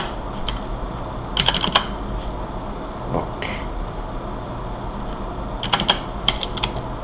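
Computer keyboard keys pressed during a ZBrush modeling session, heard as a few scattered clicks in small clusters over steady background noise.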